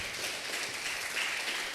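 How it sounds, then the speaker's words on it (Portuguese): A church congregation claps together in a soft, steady wash of applause, fairly faint and distant, lasting the whole brief moment without pause. "Pode aplaudir, Jesus."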